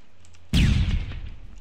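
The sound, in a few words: flashbang grenade thrown in PlayerUnknown's Battlegrounds video game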